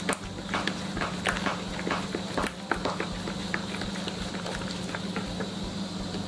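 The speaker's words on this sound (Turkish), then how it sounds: "Hafif şekerin erimesini sağlıyorum karıştırarak." Sugar melts in a pan for cookie dough while being stirred, with repeated close scraping strokes and soft ticking taps over a steady low background hum, no talk.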